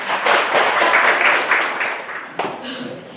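Schoolchildren in a classroom clapping their hands together, a lively burst that swells early and then fades, with a sharp clap or knock near the end and faint voices beneath.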